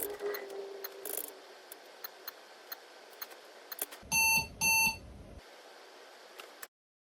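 An x86 Pong game running as a BIOS extension sounds two short, loud electronic beeps close together amid faint ticking, then falls silent.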